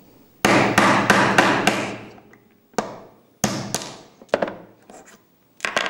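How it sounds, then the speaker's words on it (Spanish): Hammer blows knock a connector out of a disc: a quick run of five sharp ringing strikes, then a pause and several more scattered, clanging hits, loud and close. "Ahí le vamos a dar un par de golpes y va a caer el conector abajo."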